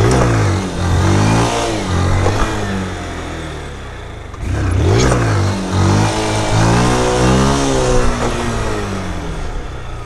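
A Yamaha Fazer 160 motorcycle engine revs up and down close by, loud throaty pulses rising in pitch, dipping briefly, then climbing again in repeated throttle blips, with no talk over it.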